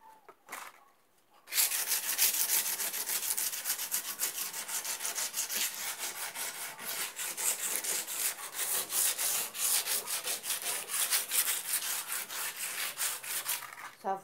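Sandpaper rubbed back and forth over an old wooden window frame being prepared for fresh paint, a loud, steady scratchy rasping that starts after a brief quiet moment and continues densely with quick strokes.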